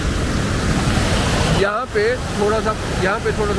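Fast-flowing glacier river water on a trek to Ghepan Glacier Lake in Lahaul gives a steady, loud roaring rush, with someone speaking Hindi briefly over it toward the end.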